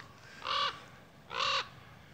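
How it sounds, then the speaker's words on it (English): A large crow or raven outdoors on a summer hillside calls twice, two harsh, evenly spaced caws roughly a second apart, fairly close and clear over quiet background. "could be a raven. It's much bigger than... than the little crows over there?"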